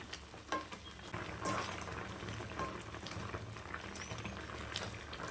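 Soya chunk gravy made with mutton masala boils in a pot, giving a steady bubbling and sizzling hiss with small pops, moderately close and continuous, with no voices.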